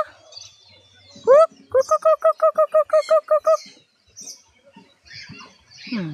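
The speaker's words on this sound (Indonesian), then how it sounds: "Ini burung beo." A captive myna gives a quick rising whistle, then a fast rhythmic run of about ten clipped, harmonic call notes, followed by softer scattered chirps and faint background noise.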